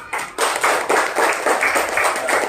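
Students in a classroom clap together in a steady, rhythmic run of applause, a bright, close patter of hands that keeps an even pulse throughout.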